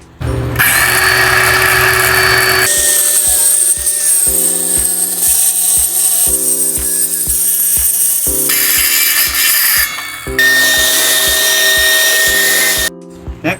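Wood being cut along a straight edge with a power saw. The motor whines loud and close in long sustained passes, its pitch shifting as the blade bites, with a rhythmic pulsing underneath and brief pauses between cuts.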